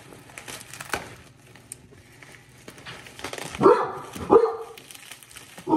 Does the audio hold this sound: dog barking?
yes